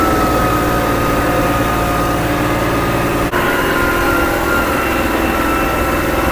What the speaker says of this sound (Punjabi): ਲੋ ਵੇ ਟਰੈਕਟਰ ਚੱਲੂਆ